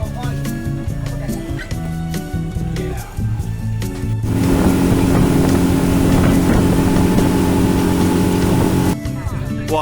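A motorboat engine drones steadily and loudly during a boat ride from a jetty in Malaysia, a broad continuous rumble that swells after a few seconds and dominates the scene, with voices talking faintly underneath.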